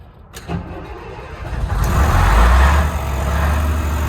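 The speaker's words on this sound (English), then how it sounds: "come along with me as I see if this will start off the starter button" An old Leyland Atlantean double-decker bus engine is cranked from the starter button and catches, building from a short whirring crank into a loud, steady diesel rumble that continues alone.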